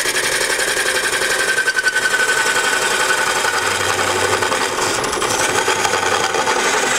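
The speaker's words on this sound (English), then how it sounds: "I'm going to go back in there and clean up the inside of it with a skew." A wood lathe turning a crematory urn while a skew cleans up the inside: a loud, steady, continuous grinding and rasping hum of tool on spinning wood, up close with no speech.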